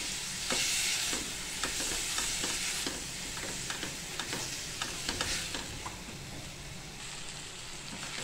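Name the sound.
chopped ripe tomatoes sautéing with masala in a pan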